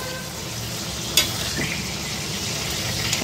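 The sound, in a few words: stuffed pointed gourd frying in oil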